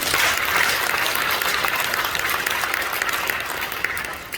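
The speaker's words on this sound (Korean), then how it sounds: "우리 박수 한번 찬양해 주시기 바랍니다" A church congregation at a Korean Presbyterian general assembly in Jongam Central Church claps together in a dense, loud, sustained round of applause that fills the hall and tapers slightly at the end.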